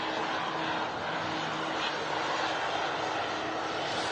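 Airbus airliner with IAE engines in a flight simulator, a steady broadband roar of jet engine noise with a faint low hum, continuous and even throughout.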